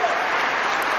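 Steady audience applause on a talk show, a dense even wash of clapping from a crowd, close and fairly loud throughout, with no break.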